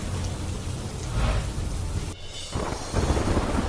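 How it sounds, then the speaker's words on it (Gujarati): Heavy rain pours in the Mandi district of Himachal Pradesh, a dense, loud roar of water with rumbling low-end gusts and a brief dip before the downpour surges again. "મંડી જિલ્લામાં અનરાધાર વરસાદ"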